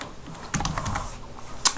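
Typing on a computer keyboard while entering product text in an e-commerce editor: a short burst of quick, close keystroke clicks, then a pause and a single sharper tap.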